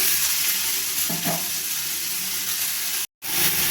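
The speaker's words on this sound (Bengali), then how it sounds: "এবার আমি যে আমগুলো কেটে রেখে দিয়েছিলাম সেটা আমি কড়াইতে দিয়ে দেবো।" Cut mango pieces fry in hot oil with fennel seeds in a wok, giving a loud, steady sizzle with faint stirring and a brief dropout near the end.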